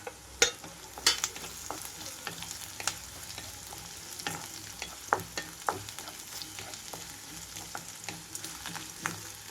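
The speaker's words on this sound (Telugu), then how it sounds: "ఇప్పుడైతే ఇందులోకి నలకొట్టి పెట్టుకున్న వెల్లుల్లి వేస్తున్నాను" Crushed garlic sizzles as it joins onions already frying in a pan, with a soft continuous crackle broken by repeated sharp scrapes and clacks of a stirring spoon, close and fairly quiet, no talking.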